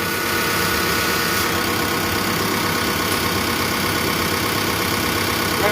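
A Toyota 1KZ diesel with a mechanical injection pump runs with the turbo off, giving a steady, loud, even idle drone with no change in pitch and nobody talking.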